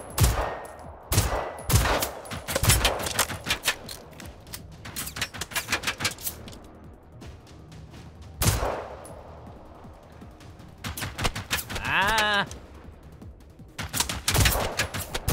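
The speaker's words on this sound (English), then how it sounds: "I'm trying to snipe him with my pistol" Rapid pistol gunfire in a video game, bursts of sharp cracks in quick succession, then scattered single shots and a short pause before more volleys, loud and close throughout.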